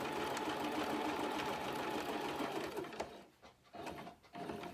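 A sewing machine running steady embroidery stitches, a close rapid mechanical whirr that stops and starts a few times near the end.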